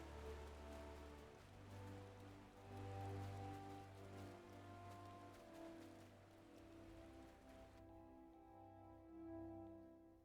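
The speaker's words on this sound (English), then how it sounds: "So rainy." Rain falls in Final Fantasy XIV as a soft, continuous patter under a sustained musical score, with the rain hiss dropping away toward the end.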